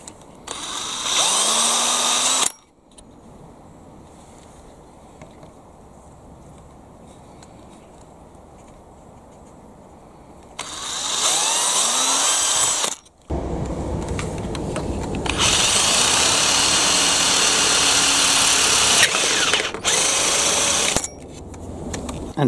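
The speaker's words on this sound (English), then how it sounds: "Starting by drilling a couple of pilot holes immediately over the axles." A power drill bores pilot holes above the axles of a Bruder Mercedes-Benz Sprinter toy model, in several loud, close whirring bursts with quiet gaps between them.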